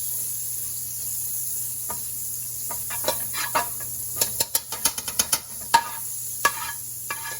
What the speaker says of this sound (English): I got my skillet on medium-high heat, just to melt this margarine real quick